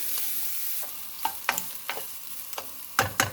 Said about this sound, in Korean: 그러면 이때 마늘을 한 큰술 넣고 같이 볶아줍니다.